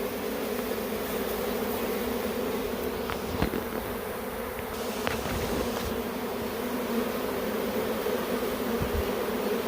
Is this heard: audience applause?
no